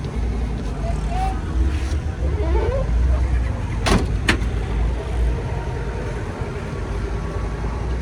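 A four-cylinder Mazda car engine idling after being started, with the bonnet open: a steady low rumble close by, running continuously under intermittent voices and a couple of brief sharp knocks.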